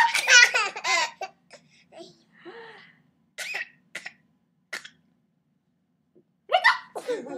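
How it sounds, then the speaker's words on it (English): Hiccups from a person, sharp sudden vocal catches with high squeaky laugh-like bursts at the start and end and scattered single hiccups in between, close and clear in a quiet room. "Who's got the hiccup?"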